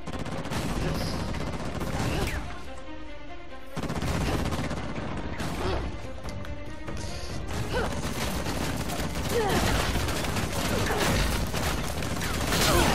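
Gunfire from the video game Uncharted: The Lost Legacy comes as dense, sustained bursts of shots and rapid automatic fire, loud and continuous, with crashes and mechanical clatter mixed in and a player's voice heard now and then.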